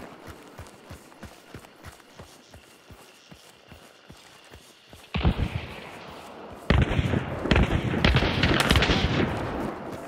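Gunfire in the multiplayer shooter Hunt: Showdown: a series of distant rhythmic shots and footsteps, then two louder close bursts of gunfire with echoing report, no talk.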